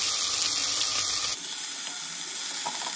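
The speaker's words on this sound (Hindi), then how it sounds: "अब सब्जी में पानी डाल दिए ना" Water poured into a pan of cooking vegetables with black fungus mushroom: a loud hissing sizzle that abruptly shifts to a steady rushing pour, close and alone.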